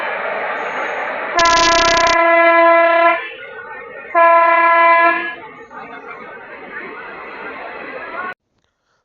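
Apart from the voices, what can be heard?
Lalgola–Kolkata Dhanadhanya Express train passing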